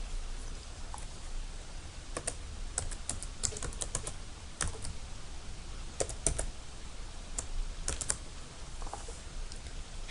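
Fingers tap out a password on a computer keyboard in short irregular bursts of close, quiet key clicks, with faint pauses between strokes and no talking.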